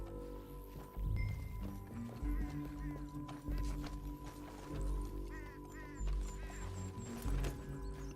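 Horses galloping in Red Dead Redemption 2, steady hoofbeats with game music and ambient sounds, and brief spoken voices over the ride.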